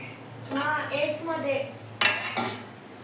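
Dishes and a mixer jar being washed at a kitchen sink, with clattering and clinking of pots and utensils in two bursts, near and moderately loud, over faint running water.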